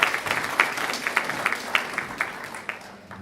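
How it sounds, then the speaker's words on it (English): A small audience claps steadily for a few seconds, individual hand claps audible in an irregular patter that gradually thins out. "Let's applaud him."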